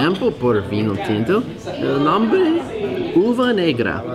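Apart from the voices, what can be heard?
None of the usual background noises is heard.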